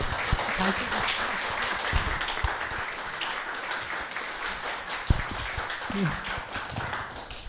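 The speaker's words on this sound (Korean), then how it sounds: "환영하는 마음을 담아서 큰 박수 주시기 바랍니다" Church education conference attendees give a round of welcoming applause for a presenter, a steady mid-level patter of many hands with a few brief voices and bumps mixed in.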